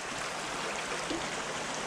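A small wild creek flows in December, a steady soft rushing and trickling wash of water, close and continuous with no voices.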